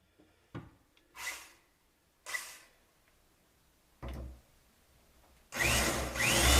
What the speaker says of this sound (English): Quarter-inch drill bit, 1/4 inch holes.